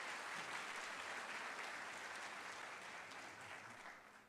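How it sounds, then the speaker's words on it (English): Audience at an employee service day breaking into sustained applause, a broad wash of many hands clapping that stays even and then tapers slightly, heard at a distance and fairly faint. "give yourself a round of applause, patients, students,"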